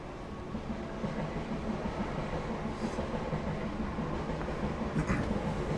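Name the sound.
passing train in video game The Wolf Among Us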